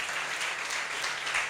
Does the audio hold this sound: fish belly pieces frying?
no